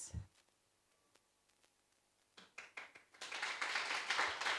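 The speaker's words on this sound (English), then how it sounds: "Give her a round of applause." Audience applause for a student performer at a coding camp commencement ceremony: a few scattered claps at first, then a swelling round of clapping that grows louder and denser toward the end.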